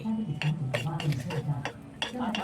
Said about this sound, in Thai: เราก็จะมาผสมขนมกันแล้วนะ ใส่น้ำตาลใส่แดงลงไป